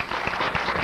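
A short burst of applause for doña Iris del Valle at a tribute event, steady clapping from a gathered audience.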